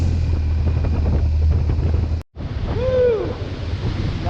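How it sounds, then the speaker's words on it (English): A river rushes past near the small village of Supía in Colombia, a loud broad roar heavily buffeted by wind on the microphone. A short silent gap interrupts it, and a brief falling whistle-like call follows. "Now that's a river."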